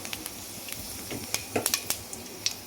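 Fennel seeds sizzling in a little hot oil in a kadai while kuruma is being made, giving a soft steady hiss with scattered faint pops and crackles, heard alone and fairly quiet.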